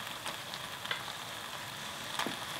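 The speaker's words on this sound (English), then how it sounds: "I'll reheat to make it sizzle" Sundae-bokkeum, spicy stir-fried Korean blood sausage with shiny noodles, sizzles steadily in a hot cast iron pot as it reheats, a continuous crackling hiss with occasional sharper pops.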